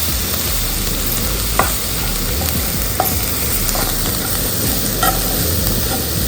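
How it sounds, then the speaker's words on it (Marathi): Spices for a wild-vegetable dish are stirred and roasted in a pan over lowered heat, giving a steady close sizzle with occasional scraping clicks of the spoon against the pan. "असं मस्तपैकी सर्व असं एकत्र मिश्रण करून मस्तपैकी भाजून घ्यायचे"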